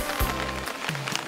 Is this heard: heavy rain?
yes